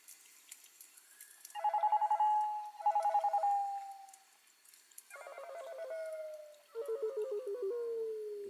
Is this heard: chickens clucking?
no